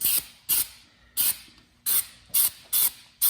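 Rubberized undercoat sprays onto a vintage Honda CL350 front fender from an aerosol can in six or seven short, sharp hissing bursts, each about a quarter second, evenly spaced and close.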